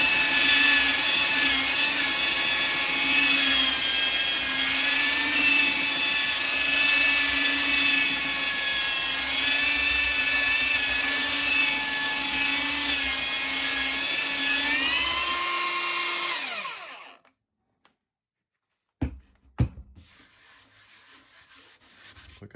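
A Bauer 20-volt cordless belt sander, pressed down hard, runs with a loud, steady motor whine and abrasive hum for about sixteen seconds, then winds down and stops, followed by a few sharp handling clicks and faint background noise.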